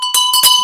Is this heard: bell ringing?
yes